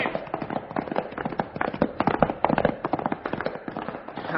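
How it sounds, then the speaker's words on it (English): Gunshots in a western radio drama, a rapid volley of many sharp cracks at mid distance, dense and overlapping throughout without a break. "Don't waste lead shooting over their heads."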